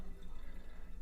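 Liquid, apparently hot water, is poured out of a container in a steady, continuous splashing stream lasting about a second, close and fairly loud, with no talking.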